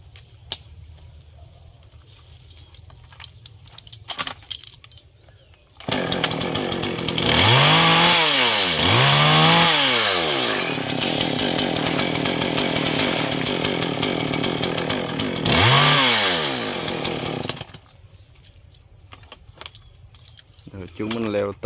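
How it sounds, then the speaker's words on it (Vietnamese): A chainsaw, a GZ4350, roars loudly for about twelve seconds, with repeated revving swells as it bites into a large eucalyptus tree, then cuts out; quieter idling and background noise before and after. "đó là máy cưa GZ4350 nha các bạn"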